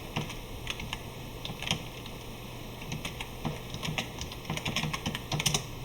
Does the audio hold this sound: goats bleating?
no